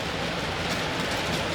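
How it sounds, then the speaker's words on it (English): A model railroad train at the Minnesota Transportation Museum rolls along its track with a continuous, close rushing rumble and faint wheel clatter, steady throughout with no voices. "we even have a train coming by as we speak"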